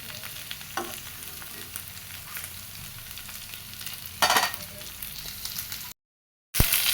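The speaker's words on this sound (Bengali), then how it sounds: "পেঁয়াজ কাঁচামরিচ ভাজবো সুন্দর মতো লাল লাল করে ভেজে নিব" Onion and green chilli fry steadily in hot oil on a stove, a dense continuous sizzle with occasional stirring scrapes, close up, cut by a brief gap of silence near the end.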